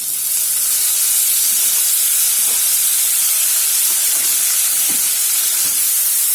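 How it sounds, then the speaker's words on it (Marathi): Tomatoes with turmeric sautéing in a pan for a mixed vegetable dish give a loud, steady, unbroken hiss throughout, with no talking. "टमाटर आता व्यवस्थित परतून घेऊ"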